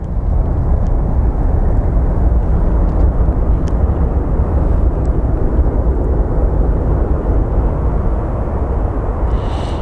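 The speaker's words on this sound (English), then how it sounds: "we will get Air Canada 1288 departing for Toronto" An Air Canada airliner departs Phoenix Sky Harbor for Toronto with a loud, continuous jet roar that holds steady and close for about ten seconds, with no voices over it.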